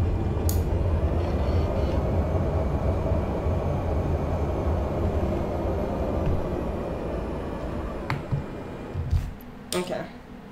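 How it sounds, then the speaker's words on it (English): Airliner engines roaring on reverse thrust after touchdown at Ísafjörður in Microsoft Flight Simulator, a loud sustained rumble that slowly fades, ending with a few scattered clicks and knocks. "Reverse thrusters."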